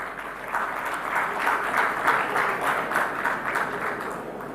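An audience at a maritime expo MOU exchange ceremony claps, and a dense, steady applause rises and swells slightly with some individual claps standing out, continuing throughout.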